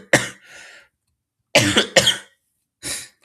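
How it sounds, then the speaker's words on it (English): Three sharp, close coughs in a quiet room, one short burst followed by a pair of harsher coughs and a fainter final one, with no talking. "Sorry about my cough."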